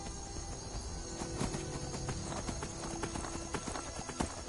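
Horse hooves clip-clop in the video game Skyrim, a series of sharp uneven thuds at walking pace over a low game background, close and fairly clear.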